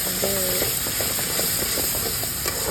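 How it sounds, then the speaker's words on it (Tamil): Tomato paste sautéing in a pan for vatha kuzhambu makes a steady, dense sizzling hiss up close, with a brief faint tonal sound near the start. "நம்ம கரைச்சி வச்ச தக்காளியும் அது கூட சேர்த்து அதையும் கொஞ்சம் நல்லா வதக்கிட்டு"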